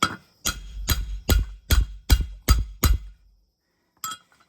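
A series of about eight sharp metallic hammer blows on a socket driving a seal into a 1954 International Harvester Metro's front brake hub, steady rhythm, ringing clinking tone, then a pause and one lighter tap.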